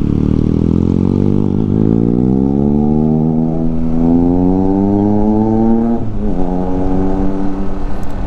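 A Triumph motorcycle engine on a road ride to Bicol, Philippines, revving loud and close with a steadily rising pitch over several seconds, then dipping and climbing again near the end.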